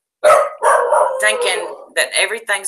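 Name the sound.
dogs barking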